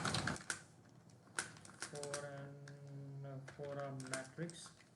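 Quiet clicks and taps from a computer keyboard while C code is typed in, irregular keystrokes running steadily beneath a person talking.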